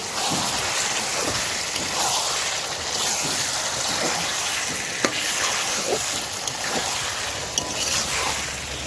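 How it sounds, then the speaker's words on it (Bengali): Chicken sautéed with spices in a pan, a continuous close sizzle with repeated scraping stirs, steady and fairly loud with no talking. "মশলার সঙ্গে ভালোভাবে মাংসটা কষে নিই"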